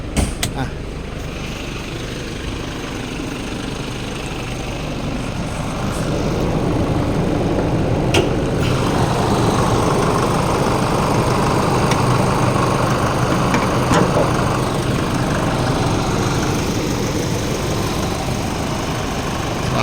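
The 2.5 diesel engine of a Chevrolet Colorado pickup idles in a steady, close, even clatter and rumble that grows a bit louder and stays constant, with some talking over it.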